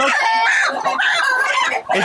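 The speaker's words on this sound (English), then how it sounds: "On my right, I have a female hen and I have a cock." Hen and rooster at close range on a poultry farm, loud repeated clucking and squawking calls in quick succession with barely a pause.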